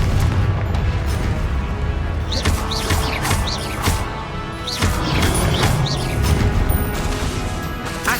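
Repeated Confringo explosive spell blasts in Hogwarts Legacy, several sharp bursts with whooshing streaks over a dense, loud battle rumble.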